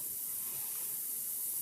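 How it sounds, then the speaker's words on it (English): Palm oil heats in a dry pot and gives off a faint, even, high hiss that runs steadily throughout with no other sounds. "We'll start by adding the palm oil into the pot, dry pot. Heat it up a little"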